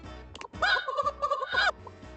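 Chicken clucking in the video game Date Everything: a short series of raspy, gobbling fowl calls, loud and close, rising into a sustained warbling cluck and then trailing off, with no speech.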